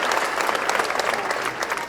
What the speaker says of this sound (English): that's a long applause